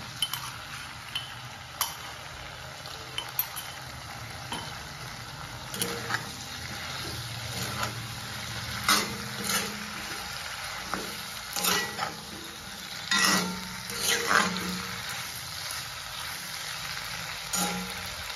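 Local chicken curry frying in a pan with potatoes, ginger, garlic and green chili: a continuous, quiet sizzle runs throughout, broken by occasional stirring clinks and scrapes that grow more frequent toward the end.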